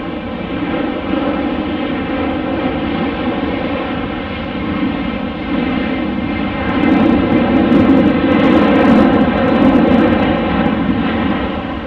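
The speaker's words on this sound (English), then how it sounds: "Was a relatively quick takeoff. I bet there's some empty seats on that plane." A passenger airplane taking off after fighter departures at a busy airport, its engines a steady, loud broadband roar with tonal drone that swells louder toward the end, with no talk over it.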